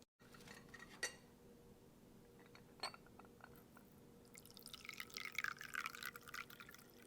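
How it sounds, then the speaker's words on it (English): Tea is poured into a cup at an afternoon tea, a soft rising trickle of liquid following a few light clinks of dishes, faint and close. "Let me now pour some tea."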